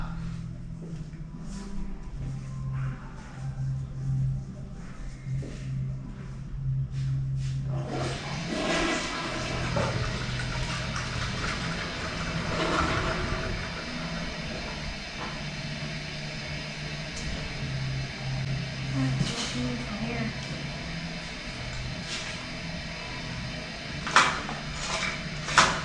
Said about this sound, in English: Can you flush that toilet on the other side?